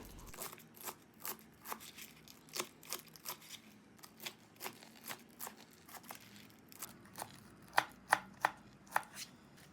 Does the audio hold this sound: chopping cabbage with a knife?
yes